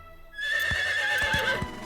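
A cartoon horse gives a loud, bright whinny that wavers for over a second, with several hoof clops beneath it, in a western riding lesson scene.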